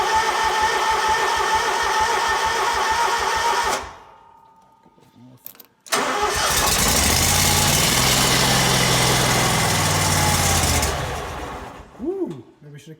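Engine of a piece of lawn care equipment runs loud and close, cuts out, then is restarted and roars to a steady idle before dying away, with a brief voice near the end.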